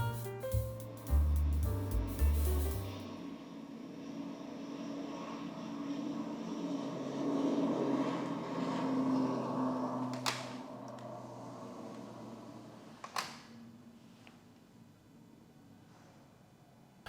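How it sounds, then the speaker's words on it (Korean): Roar of an airplane taking off, recorded from indoors as windows are shut one by one; a loud opening burst gives way to a steady muffled rumble with a couple of sharp clacks of closing panes. "지금 영상이 비행기 이륙할 때 나는 소음이거든요."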